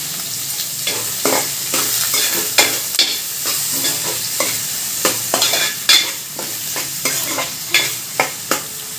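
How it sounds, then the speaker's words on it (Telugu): Onions sizzle in a hot pan while a spoon stirs them, loud close frying hiss broken by a regular series of scraping, clattering strokes. "సో ఇప్పుడు వేసేసుకోవచ్చు మనం ఉల్లిపాయలు, ఇంకా అన్నీ. ఇప్పుడు మంచిగా కలిపేసుకోవచ్చు."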